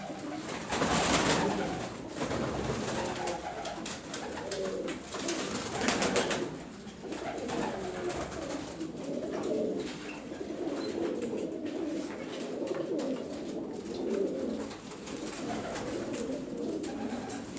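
Karabaş pigeons coo in a loft, soft repeated throaty calls and rustling close by, rising and falling in uneven bursts with no talk over them.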